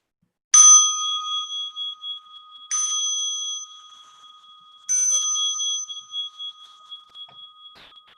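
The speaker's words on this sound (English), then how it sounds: "As you listen to the bell" A meditation bell rings three times at even intervals, each strike bright and clear with a long sustained tone that fades slowly between strikes. Quiet room, no voices.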